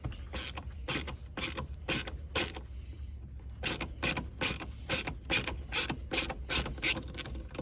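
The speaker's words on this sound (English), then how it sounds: "I believe this will be the last 2 screws that we open." A hand ratchet removing the last screws from the airbag module of a 2020–22 Nissan Sentra, rapid loud clicking in close repeated bursts of a few strokes each, separated by short pauses, with no talk.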